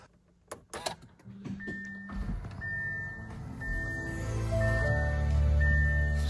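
An Audi Q8 e-tron powering on gives a series of soft electronic chimes and motor whirs that build into a steady hum, heard alone at close range.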